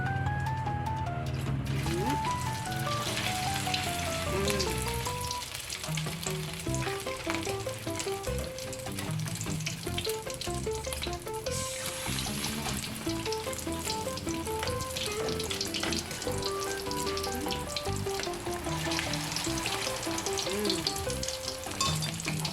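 Thai shrimp cakes deep-fry in a pan of oil, a constant crackling sizzle held at even loudness throughout, mixed with musical tones in the background.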